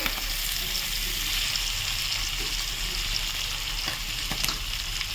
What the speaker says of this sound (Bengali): আমি এখন মাছের চচ্চড়িটা নেড়ে নেব।